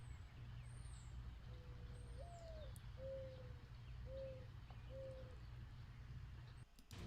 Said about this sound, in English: those loons are like my favorite bird sound